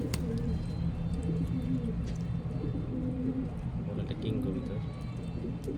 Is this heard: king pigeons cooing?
yes